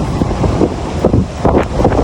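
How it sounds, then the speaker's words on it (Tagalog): Strong wind buffets the microphone at Bote Lighthouse in Catanduanes, a loud, continuous roaring rush with gusty surges and no voices. "bababa na kami kasi grabe ang lakas ng hangin"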